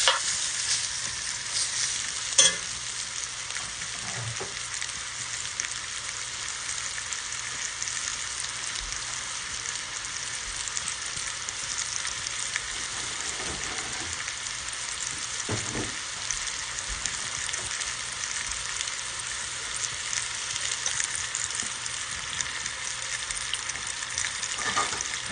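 Beef fries in a pot on a generous layer of oil for stew, giving a loud, steady, close sizzle that runs unbroken throughout, with a few small clicks and pops.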